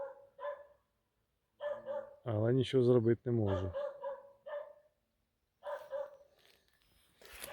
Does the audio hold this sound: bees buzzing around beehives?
no